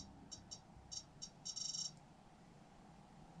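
Short electronic beeps from a ghost-hunting device in an old barn come in a quick irregular run, then stop, leaving a quiet room tone.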